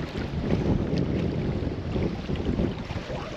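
Steady wind blows hard across an open fishing tournament scene on the water, a loud continuous roar of microphone buffeting with no talking.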